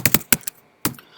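Several sharp keystrokes on a computer keyboard click in a short uneven burst, a couple of taps, a pause, then one more, close and fairly quiet while code is being written.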